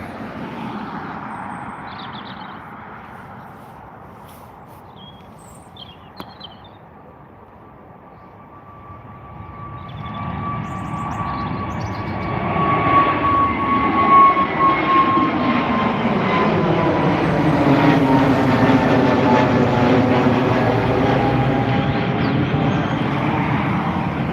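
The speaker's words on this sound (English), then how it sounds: "already beginning its takeoff is the first A320neo from Aer Lingus on the stream" An Aer Lingus Airbus A320neo takes off at Dublin Airport, its engine roar swelling from a distant whine to a loud, sustained rumble with rising and falling tonal hum as it climbs away.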